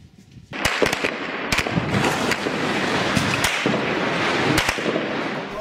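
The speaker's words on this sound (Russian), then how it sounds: "Мощный взрыв" A huge bomb blast of about 25 tonnes of explosives in Syria: loud, sharp blasts crack repeatedly over a continuous rumbling roar, several sudden bangs scattered irregularly across the recording.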